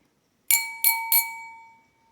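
Water glasses filled to different levels are struck in turn along a pentatonic scale, giving three close, bright clinking tones a few tenths of a second apart, each left to ring and fade with no voices.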